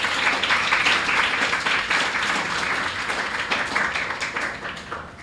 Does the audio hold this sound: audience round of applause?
yes